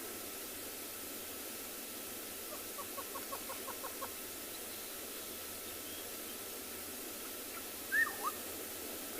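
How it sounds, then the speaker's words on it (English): Black-headed oriole and hornbill calling on a morning safari in South Africa: a quiet run of short repeated notes, then a brief louder call near the end, all over a steady hiss of outdoor background noise. "That black-headed oriole. And the hornbill."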